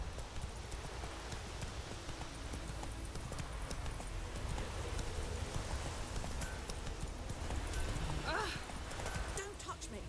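The horse Roach trots with steady, rhythmic hoof clops in The Witcher 3: Wild Hunt, set against a rain-like ambient hiss, with a brief whinny-like sound late and game voices speaking at times.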